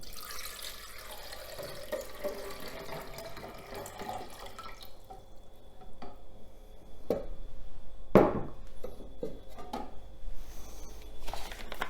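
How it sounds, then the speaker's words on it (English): Cold water runs into the removable water container of a Nespresso Lattissima coffee machine, a soft tap stream at first, then louder splashing and a few sharp knocks as the container fills nearby. "if we take the water container off and we fill that up accordingly"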